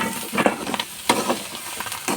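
Clam meat frying in a pan while being stirred gives a close sizzle broken by quick scraping bursts of the stirring, repeated several times in an uneven rhythm, with no voices.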